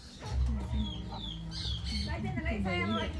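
Small chicks and hens on a chicken farm peep and cluck in short, high chirps, close by, mixed with people talking nearby.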